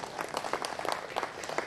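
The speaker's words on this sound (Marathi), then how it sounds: "आपण ह्याच्यावर टाळ्या वाजवल्या तरी चालतील." Audience applause in a hall at a civic discussion on city redevelopment, a dense, continuous patter of many hands clapping at moderate volume for a couple of seconds, with no voices.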